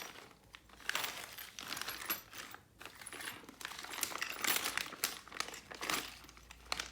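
A plastic parts bag from a kit for an XRAY GTXE 2023 Edition RC buggy is opened and handled up close, giving repeated crinkling and rustling bursts for several seconds without any talking.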